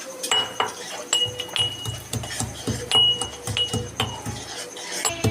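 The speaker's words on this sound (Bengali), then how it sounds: "রসুনগুলোকে ছেঁচে নিচ্ছি ভালো করে" Garlic cloves crushed in a mortar while cooking an aloo paneer dish, a series of sharp clinking and thudding pounding strikes in an irregular rhythm, close and moderately loud, with some background kitchen noise.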